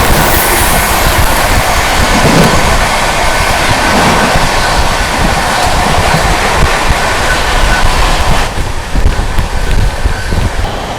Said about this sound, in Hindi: सामने से आती हुई 12505 Kamakhya Anand Vihar north east express.